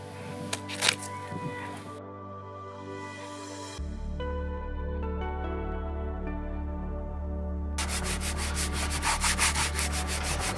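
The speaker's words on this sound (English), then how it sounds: "we removed the bow rail to make sure I could sand right out to the edges of the bow deck planking" Steady sanding of the bow deck planking on a 40-foot wooden boat being restored, a continuous droning, rubbing grind that swells louder and harsher toward the end, with no talk.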